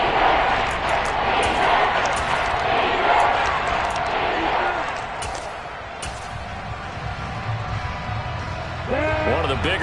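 A stadium crowd at an American football game between the Jaguars and Texans roars steadily as a big third down approaches, the broad cheering noise continuing throughout beneath a commentator's voice.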